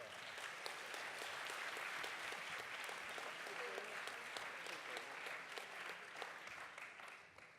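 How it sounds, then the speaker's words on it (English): A conference audience applauds panelists after a development cooperation discussion, steady crowd clapping with distinct individual claps, fairly quiet and distant, holding for several seconds before tapering off. "Round of applause for our panelists."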